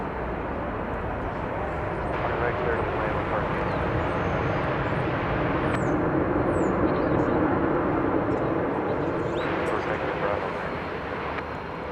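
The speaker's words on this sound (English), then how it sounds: "Pointing its tail toward the south is American Flight 1064 off to San Francisco, Airbus A321." American Airlines Airbus A321 jet at DFW Airport, a steady distant engine roar across the whole span with faint bird chirps and brief clicks on top.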